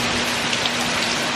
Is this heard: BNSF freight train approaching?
no